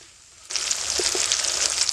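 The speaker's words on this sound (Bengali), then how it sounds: "দিয়ে দিব পেঁয়াজ কুচি, টমেটো কুচি। পেঁয়াজ আর টমেটোটা একটু লাল লাল করে ভাজতে হবে।" Chopped onion and tomato start frying in a hot pan, a steady bright sizzle that jumps in suddenly after a brief quiet moment and holds close and even throughout, with no voices.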